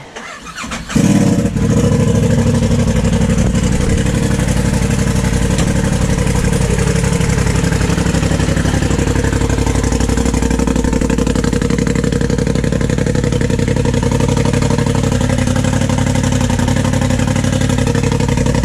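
A turbocharged Polaris RZR UTV engine with a Boondocker Dominator turbo kit cranks, catches with a roar, then settles into a loud, steady, throaty idle that runs on unbroken for a long stretch.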